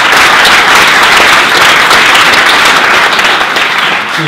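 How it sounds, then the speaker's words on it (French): Thunderous applause from a convention audience, a dense, loud, steady wash of clapping that fills the whole stretch without a break. "je vous demande un tonnerre d'applaudissements"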